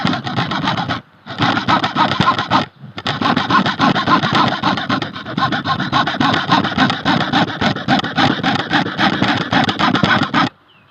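A hand saw rasps steadily through wood in fast back-and-forth strokes, close and loud, pausing briefly twice before the cutting continues.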